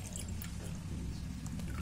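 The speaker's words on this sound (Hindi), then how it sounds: "आधा ग्लास पानी, और थोड़ा सा ऐड कर लेता हूँ" Water poured into a glass of milk in a home kitchen, a faint continuous trickling and dripping of liquid, alone with no voices.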